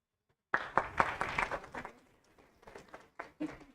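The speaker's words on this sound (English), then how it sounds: "Let us clap hands." An audience at a university library book club launch claps its hands: a burst of close claps that thins out into scattered, quieter claps over a few seconds.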